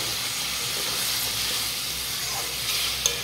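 Spice paste frying in a pan gives off a steady, close hiss and sizzle after water is poured in, with faint stirring and no talking.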